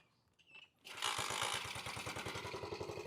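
A 50cc Garuda dirt bike engine with a high-lift cam catches after a brief rattle and settles into a fast, steady idle with a rhythmic putter, loud and close.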